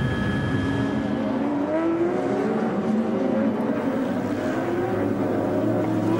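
Race cars pull away at the start of the Nürburgring 24-hour race, a dense, loud engine roar with several overlapping revving tones rising and falling as the field passes.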